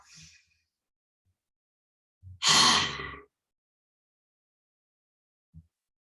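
A single long, airy breath during a yoga session, likely an exhale through the mouth, rising clearly out of near silence for about a second. Faint soft movement sounds come before and after it.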